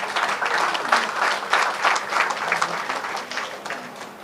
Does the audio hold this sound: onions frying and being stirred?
no